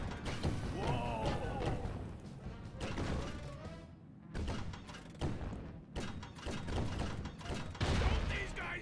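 Cannon fire in the Sly Cooper Thieves in Time video game, heard as a string of heavy booms and thuds mixed with clanking mechanisms and game music throughout.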